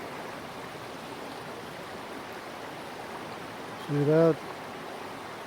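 After rainfall a stream of clean water flows with a steady broadband rush, and someone speaks briefly over it.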